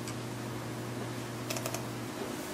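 Computer keyboard keys being pressed, including Enter: a short quick cluster of crisp clicks over a constant low background hum.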